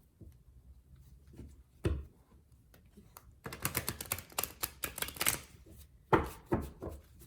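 Crisp papery riffling bursts of tarot cards being shuffled, several quick flurries close by, with quieter handling taps between them and no talking.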